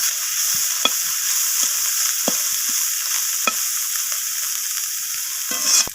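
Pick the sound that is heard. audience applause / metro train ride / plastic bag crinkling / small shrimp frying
small shrimp frying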